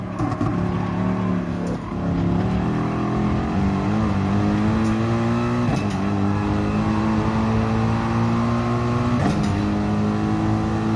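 A race car engine in Gran Turismo Sport at Barcelona drones loud and continuous, its pitch climbing through gears with several shift drops, steady with no talk over it.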